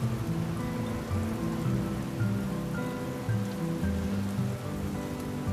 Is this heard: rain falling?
yes